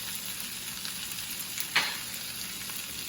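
Potatoes seasoned with crushed red pepper fry in a pan, a steady close sizzle throughout with one brief louder burst of stirring near the middle.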